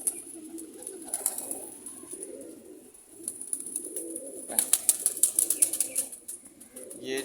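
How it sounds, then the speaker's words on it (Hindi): Soft, low pigeon cooing repeats throughout, with a faint high hiss and light rustling that becomes busier in the second half. "ये जी माशाल्लाह मोहब्बत वाले कबूतर हैं।"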